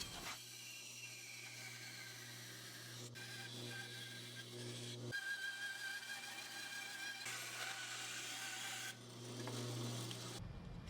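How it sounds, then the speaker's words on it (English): A hand saw cuts a piece out of a cedar wood joint, producing a steady, quiet rasping stroke after stroke, with a couple of brief pauses and a constant low background hum, no speech. "So what I'm going to do is just carefully cut out this piece."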